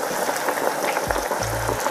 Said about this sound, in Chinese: 单独把头炸一下